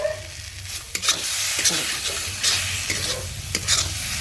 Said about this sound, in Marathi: मसाला किती मस्त भाजतोय बघा